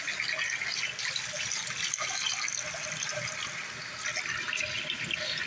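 Water runs steadily from a bathroom tap, giving a continuous broadband rushing splash without pauses and no talking.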